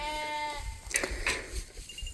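A goat bleats in a barnyard, a single drawn-out, wavering call at the start, followed by quieter rustling and farmyard movement nearby.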